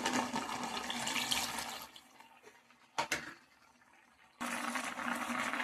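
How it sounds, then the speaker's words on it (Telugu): Water pours and splashes steadily into a pot of bottle gourd curry with chili powder and tamarind pulp, pauses briefly with a couple of sharp clinks, then pours again. "అలాగే ఇంకొన్ని వాటర్ యాడ్ చేసేసుకున్నాం"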